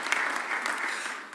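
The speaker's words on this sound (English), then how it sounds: "Give them a round of applause." Applause from an audience at a Philadelphia press conference, a steady broadband clatter of many hands clapping together, moderately loud and unbroken throughout.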